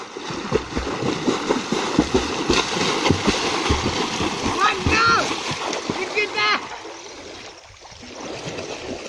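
Water splashing in the Babai river as people swim, with choppy, irregular splashes and churning surface water under loud, close voices shouting and talking.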